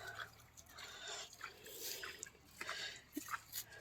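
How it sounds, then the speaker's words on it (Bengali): Water trickles and splashes onto spinach plants in a garden, soft uneven dripping and pattering at a moderate distance, faint and low in level with a few slightly brighter drops near the end. "এই যে আমার জল দিচ্ছে।"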